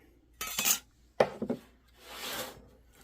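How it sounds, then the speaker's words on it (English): Filing the sharp edge of a freezer door shelf: three close, rasping bursts, two short and choppy, then a longer, softer scrape, with quiet gaps between. "So this is very sharp. So we're gonna have to put a little bit of a filing to it."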